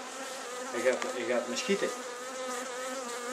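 Honeybees swarm around a beehive during a queen experiment, giving a dense, steady buzz close by, with a brief spoken voice over it.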